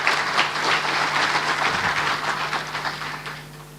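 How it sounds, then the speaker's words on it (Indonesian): Audience at an Indonesian government inauguration ceremony applauding President Prabowo Subianto, a loud sustained burst of many hands clapping that gradually thins and fades near the end. "Kita berikan aplaus untuk beliau."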